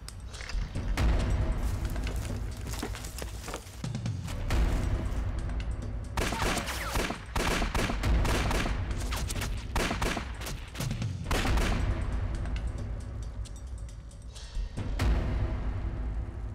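A battle scene in a Chinese anti-Japanese war drama is full of rapid gunfire and booming explosions in repeated loud bursts, with dense volleys and heavy blasts following one another throughout.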